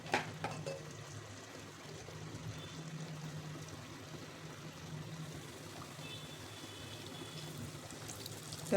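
Hot oil ladled over rice and jaggery anarsa as they deep-fry, a soft continuous bubbling and trickling sizzle, fairly quiet and steady with a small clatter at the end.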